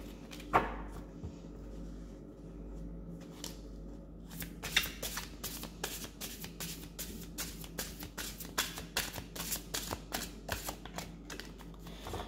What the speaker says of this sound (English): I think I will do just one more shuffle and then clear the deck